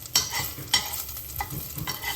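Garlic, ginger and carrot stir-fry in a pan over a gas flame, with sharp stirring scrapes every half second or so over a steady background sizzle.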